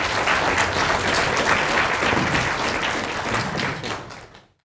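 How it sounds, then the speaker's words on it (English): A conference audience applauds after a session talk, a dense, loud, sustained burst of many hands clapping that holds steady and then fades out at the end. "Give another round of applause."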